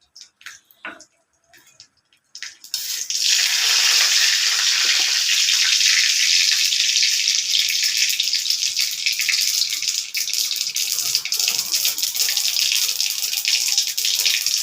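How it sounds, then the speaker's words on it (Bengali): Mustard seeds splutter in hot oil in a wok: after a couple of quiet seconds with small clicks, a loud, dense crackling hiss starts and runs steadily to the end. "সর্ষেটা দিয়ে দিই, দেখো কীভাবে ফুটছে"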